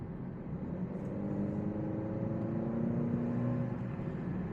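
A 2024 Alfa Romeo Stelvio Ti SUV engine pulls steadily from inside the cabin, a continuous low drone with faint rising tonal hum building as revs climb toward 2000 RPM, no talk over it.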